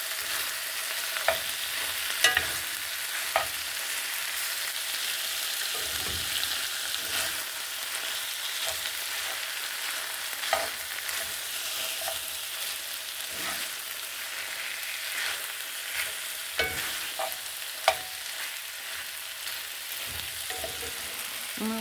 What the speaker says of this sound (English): Alright, stir it up real good.